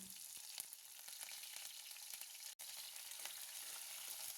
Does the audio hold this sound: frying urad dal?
yes